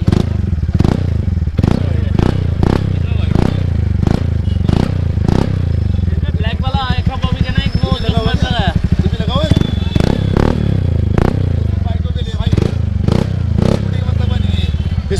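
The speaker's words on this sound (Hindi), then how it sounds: "अब लगाने जा रहे हैं R9 का, और R9 जो है वो अपने आप में भाई डिज़ाइन छोड़ो, आवाज़ बहुत अच्छी होती है इसकी।" TVS Ntorq scooter fitted with an R9 aftermarket exhaust runs close by, a deep, loud, rhythmic idle with regular thumping pulses and a brief rev, while someone talks over it.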